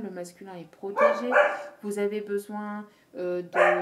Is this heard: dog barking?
yes